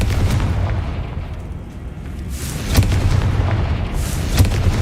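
Repeated explosive booms from fire and blast spells such as Confringo cast in the Hogwarts Legacy video game, with heavy low rumbling and sharper bursts near the three- and four-and-a-half-second marks.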